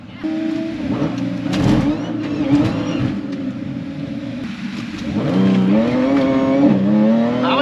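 An Audi B8 S4 launches hard on a quarter-mile drag strip. The engine roars loud and close, its pitch climbing through the gears with shifts in between, and a steady high whine rises over the revs.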